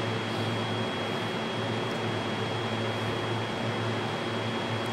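A Carrier air conditioner blower runs with a steady, dense broadband whoosh and a faint constant hum, loud and close, with no change across the span.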